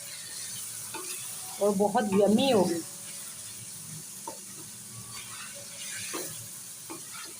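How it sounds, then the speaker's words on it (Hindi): Chicken with capsicum sizzles and is stirred in a pan, a burst of frying and spatula scraping standing out briefly amid low kitchen noise while someone speaks. "थोड़ा सा इसको फ्राई करेंगे।"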